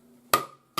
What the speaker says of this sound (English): sandwich the ring between them, give it a good smack with your rawhide hammer